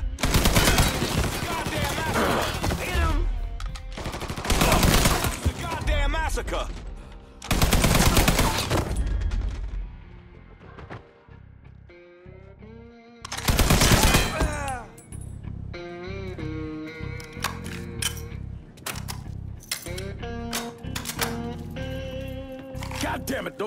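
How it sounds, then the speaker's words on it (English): A firefight in the video game Mafia 3 with loud bursts of gunfire and rapid volleys of shots, broken by shouted voices, the shooting returning in waves with denser bursts toward the end. "Somebody shoot this motherfucker!"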